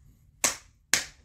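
Two sharp, loud hand claps, evenly spaced about half a second apart, heard alone against a quiet background.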